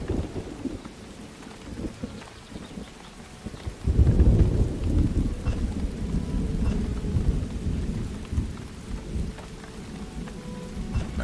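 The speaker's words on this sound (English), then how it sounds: "That rain's really coming down." Heavy rain pours and thunder rumbles in the city-building video game Farthest Frontier, starting as a steady patter before a loud, deep roll of thunder swells and lingers under continuous downpour.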